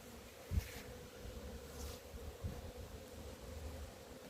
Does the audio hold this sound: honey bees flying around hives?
yes